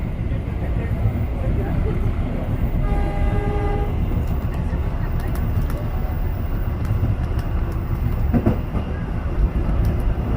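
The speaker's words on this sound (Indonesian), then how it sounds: "Dan kita bersampingan dengan kereta ini pemirsa, kereta kargo." A cargo train passes alongside a moving commuter train on an Indonesian rail line, a steady loud rumble of rolling wheels from inside the carriage with a brief horn blast and some clatter.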